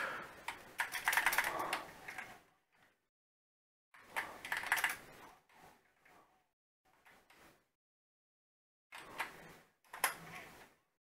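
Typing on a computer keyboard in bursts of rapid, clattering keystrokes separated by pauses, close and moderately quiet, with no talking.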